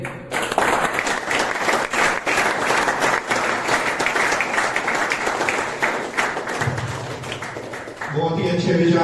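Enthusiastic audience applause fills a room at an Independence Day celebration held at a rehabilitation centre, a steady dense clapping that carries on for several seconds before fading as a voice begins to speak.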